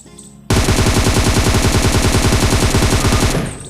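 Rapid automatic gunfire from the PUBG video game rattles out in one loud, continuous burst of evenly spaced shots lasting about three seconds, then cuts off.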